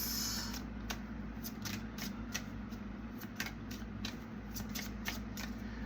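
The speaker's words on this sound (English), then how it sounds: "Let's pull some more cards." Tarot cards are shuffled close and quietly for a reading, a rapid run of soft riffling flutters repeating in an even rhythm.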